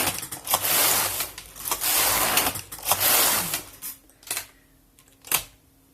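A Passap knitting machine works slip-stitch rows on both beds: several loud, rattling carriage passes in quick succession, then quieter scattered clicks and a sharp clack near the end, with no talking.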